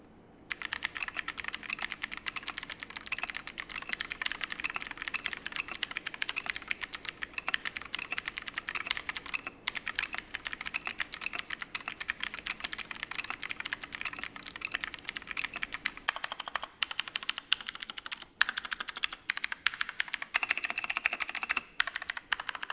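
Typing test on a Fantech Maxfit61 Frost wireless mechanical keyboard with steel plate and case foam: dense, steady clacking of keystrokes close up, running continuously with brief pauses, no talking.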